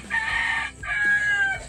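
A rooster crows nearby at night in a coastal fishing spot in the Philippines, one strained two-part call with a brief break in the middle, fairly clear and loud, with no voices.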